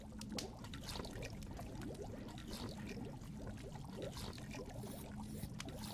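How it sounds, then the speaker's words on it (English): Goulash bubbling in a cauldron in a kitchen in the video game The Dwarves: a steady, dense simmering burble that runs unbroken throughout, with no talking. "The goulash is bubbling in the cauldron."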